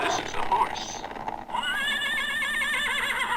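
A toy horse plays a recorded neigh, a loud wavering whinny that follows a moment of mixed talk and clatter, carrying on steadily to the end with a bright electronic tone.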